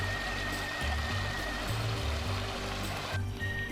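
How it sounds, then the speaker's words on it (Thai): A waterfall near a trail on Khao Luang in Sukhothai gives a steady, soft, continuous rushing of water throughout, heard from a short distance. "มีเสียงน้ำตกด้วยนะครับแถวนี้"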